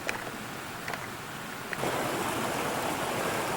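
Creek water flowing past an old mine site, running down through a snowbank; a steady broadband rush that swells louder partway through, with no talking.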